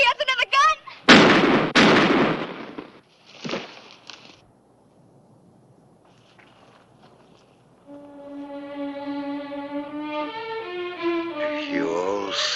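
Gunfire in a western shootout near Tombstone: a few loud, sharp shots close together at the start, then a quieter stretch before swelling orchestral music takes over.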